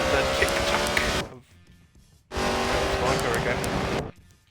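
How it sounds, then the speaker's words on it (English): A BMW M8 GTE race car engine roars loud and close in two long bursts, cutting off sharply between them as gears change, with brief pops at the breaks; a voice talks over it. "As you hear the pop of the gears changing."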